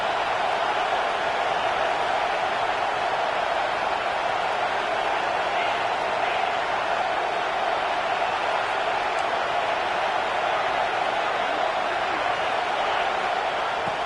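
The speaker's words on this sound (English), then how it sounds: "Here comes this home crowd as the defense tries to get off the field on 3rd down" A home crowd in a college football video game, Tennessee versus UCLA, roars on third down as a continuous, dense wash of cheering and noise that stays loud and even the whole time without breaks.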